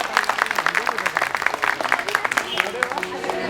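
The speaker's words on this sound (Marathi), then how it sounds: "एकदा सावीसाठी जोरदार टाळ्या होतात." Clapping for a young girl named Savi at the opening of a stage program, with dense, rhythmic hand claps close by and voices talking over them.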